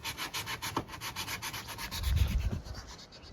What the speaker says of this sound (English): Casey sanding.